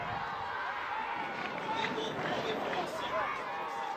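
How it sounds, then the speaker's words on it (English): Sizable crowd at Alumni Stadium during a Clemson vs. Notre Dame men's college soccer match, a steady distant roar of voices and cheering that holds throughout. "The sizable crowd at Alumni Stadium begins to make some noise."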